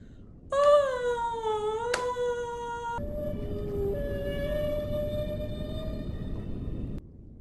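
A person sings in long, wailing, sliding tones imitating whale song, whale-jazz style, loud and close throughout with a brief sharp break partway through.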